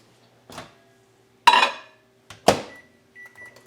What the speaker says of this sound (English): this is gonna go in the microwave for about a minute